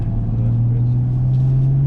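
Inside a rear-wheel-drive BMW 430d with a Stage 3 tune, the engine pulls hard under acceleration with a loud, deep, rising drone as the turbo spools, heard from the cabin.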